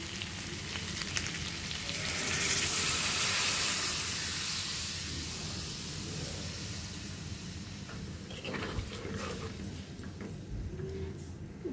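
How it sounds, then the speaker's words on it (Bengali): Water poured into a pan of frying taro and potato curry gives a loud, steady sizzling hiss that swells early and then settles into a softer, continuous bubbling fry. "আমরা এখন জল দিয়ে দিব।"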